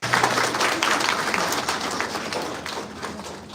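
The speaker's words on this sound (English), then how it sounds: "Can we please have a round of applause?" A round of applause rises from an audience at an institute event, dense clapping that holds steady and slowly thins out, with a faint low hum underneath.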